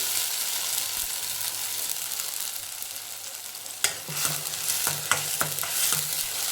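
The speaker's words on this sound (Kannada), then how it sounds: "ಕೆಂಪು ಬಣ್ಣ ಹೊರವರೆಗೂ ನಾವು ಇದನ್ನು ಫ್ರೈ ಮಾಡ್ಕೋಬೇಕು" Onions frying in a pan for onion rice give a steady, close sizzle, with a few sharp scrapes and knocks of a spoon stirring against the pan in the later part.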